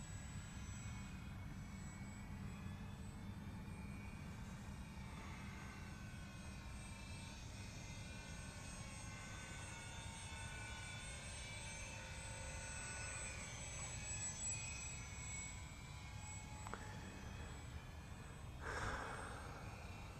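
Airfield Sky Trainer 182 model airplane flying, a continuous buzzing engine drone at moderate distance with slight pitch shifts and steady wind noise.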